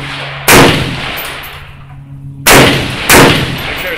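Three loud AK-47 rifle shots at a shooting range, close and sharp, the first alone and the next two fired in quick succession about half a second apart, each with a ringing decay.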